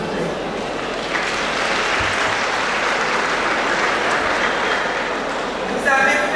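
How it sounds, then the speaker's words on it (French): An audience claps warmly at a ceremony, with broad, sustained applause at an even level throughout and a slight swell at the very end. "Et je vous demande de les applaudir chaudement s'il vous plaît."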